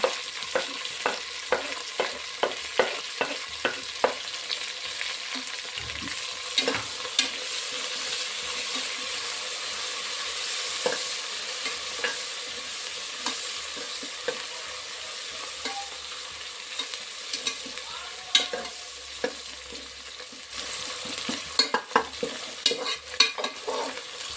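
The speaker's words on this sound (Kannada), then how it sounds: "ಇದಕ್ಕೆ ನಾನಿವಾಗ ಪುದೀನ ತುಂಬ ಸೊಪ್ಪು ಈಗಲೇ ಬೇಯಿಸ್ಕೊಂಡ್ಬಿಡ್ತೀನಿ, ಎರಡೂ ಕೂಡ" Mint leaves fry and are stirred in a pan with other aromatics for a mushroom biryani, a steady close sizzle broken by frequent scraping stirs of the spoon against the pan, with no talking.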